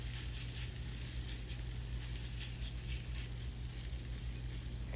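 Mixed vegetables for a Nigerian meat pie filling cook in a pan, giving a faint, continuous sizzle over a steady low hum.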